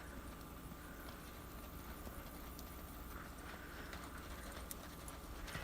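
A horse's hooves beat out a steady loping rhythm, slowing to a slower lope, faint and distant under a constant wash of outdoor background noise.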